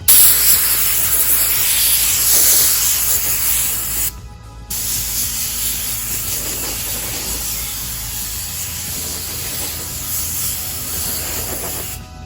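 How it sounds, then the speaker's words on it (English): An air compressor blows dirt off cedar shutters with a loud, steady hiss of compressed air that runs nearly continuously, broken by one brief cutoff before the blast resumes. "and then with the air compressor you're able to get just like any extra dirt that might be on there."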